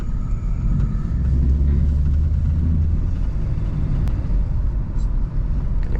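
An 81K-mile 1979 Ford Thunderbird survivor drives and banks into a turn, heard from inside as a loud, constant low engine and road rumble with little change.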